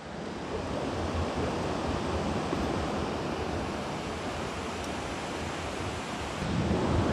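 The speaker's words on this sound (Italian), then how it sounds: "Questo magnifico torrente." A mountain torrent in the Val Grande wilderness of Italy rushes steadily, a dense, unbroken roar of flowing water, close and with no voices.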